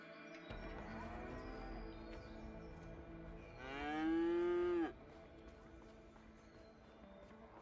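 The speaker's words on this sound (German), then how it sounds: "Hey, eine Kühe." A cow in the video game A Way Out lets out one long, loud moo that swells and then stops abruptly, set over steady game ambience with light background sound before and after.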